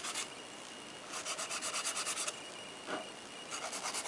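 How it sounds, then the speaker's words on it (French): Gel nails being filed with a straight nail file during a gel fill, giving repeated dry rasping strokes in short bursts close up, with no talk. "Avec la lime droite, je repasse bien les parallèles."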